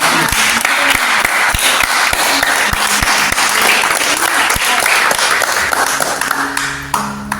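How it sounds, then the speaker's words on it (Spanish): A church congregation breaks into loud, close applause, with dense clapping mixed with sharp individual claps and taps throughout, easing slightly as a voice comes back at the end. "Dale un aplauso a Dios por su palabra."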